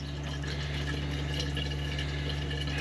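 Reverse osmosis water running steadily into a container, a continuous close trickle with a low mechanical hum underneath and no pauses.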